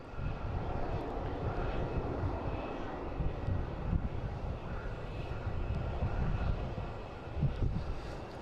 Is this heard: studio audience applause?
no